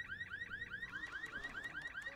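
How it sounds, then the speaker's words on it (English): A car alarm in Resident Evil 6 blares alone, cycling rapid warbling chirps in a fast regular pattern, fairly close and steady throughout. "it's a car alarm"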